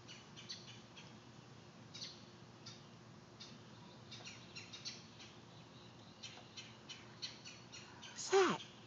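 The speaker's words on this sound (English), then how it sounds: "There's a lot of birds out here, isn't there? Are they chirping?" Birds chirp faintly outdoors in scattered short calls over a quiet background, with a brief louder squawk or call near the end and soft voices at times.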